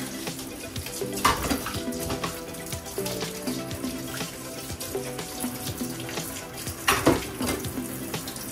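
Tap water runs steadily over a child's plastic drink bottle being rinsed in a sink, with light knocks and clinks of the bottle and dishes, close by and continuous, no talking.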